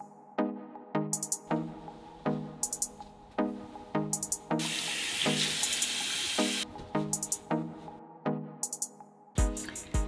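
A bathroom sink tap runs with water for face washing, a loud steady rush lasting about two seconds midway through. Rhythmic background music plays before and after it.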